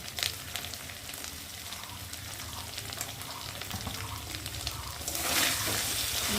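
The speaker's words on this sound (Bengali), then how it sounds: "মশলাটাকে ভালো করে কষিয়ে নেব আর এর মধ্যে এখন দেবো লটার সুতিগুলো একসাথেই ভাজা ভাজা হয়ে যাবে মশলার সাথে" Spices including cumin powder and green chilli fry in a pan, a steady close sizzle and crackle running throughout, growing louder near the end.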